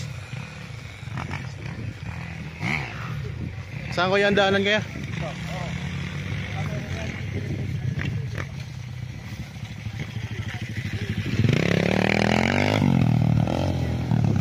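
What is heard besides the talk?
large motocross motorcycles riding nearby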